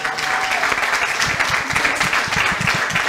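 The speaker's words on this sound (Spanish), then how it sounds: "pues nada, los valientes, un aplauso!" Applause at a salsa dance night, a dense round of clapping from the crowd, steady and fairly loud throughout with a brief tone at the start.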